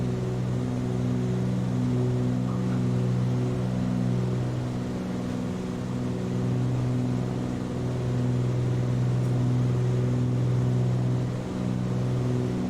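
A light aircraft's piston engine runs in Microsoft Flight Simulator 2020, giving a steady, loud, close droning hum. The tone stays even and unbroken with only slight swells, and no voices are heard.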